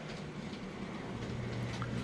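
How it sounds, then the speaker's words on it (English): A model train, the Iron Mountain, runs in a home train room with a close, steady low rumble and faint rhythmic clicking of wheels on track. "let's go down to the little train here, Iron Mountain."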